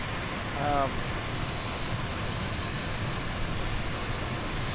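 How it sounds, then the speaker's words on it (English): Steady aircraft engine drone in Microsoft Flight Simulator as RPM increases over a stormy sea, a continuous broadband roar with a brief rising whine near the start. "Just increasing our engine RPM."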